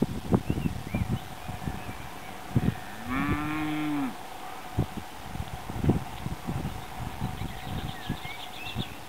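Cattle moo once in a long, low call from a nearby cow or bull in an outdoor field, with wind and handling bumps around it.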